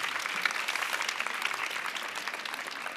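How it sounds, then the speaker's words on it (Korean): An audience at a climate seminar in Korea applauds to welcome a speaker, steady moderate clapping from a crowd, fairly even throughout and heard from some distance. "박수 부탁드립니다."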